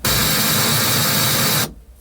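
A harsh, loud burst of broadband noise from a Yamaha SY77/TG77 FM synthesizer, operator 1 fully fed back into itself, like a hissing roar, holding steadily for over a second and a half before cutting off abruptly.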